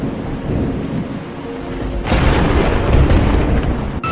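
Steady rain pours through a thunderstorm, joined midway by a loud, rolling thunderclap that swells and lingers, with a sharp crack near the end.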